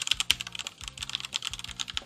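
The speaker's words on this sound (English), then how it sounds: "It's like loud, especially for a quiet keyboard." Fast, close-up typing on a loud keyboard in a home gaming setup, a steady stream of crisp individual keystroke clicks and clacks with brief pauses between bursts.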